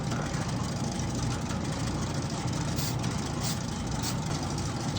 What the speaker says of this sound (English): This is also loading down the motor and the gearbox a bit